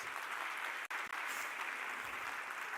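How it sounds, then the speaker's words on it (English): A seated audience at a wellbeing talk gives sustained applause, a dense, even roar of clapping that barely dips, with no voices over it. "Give yourselves a round of applause"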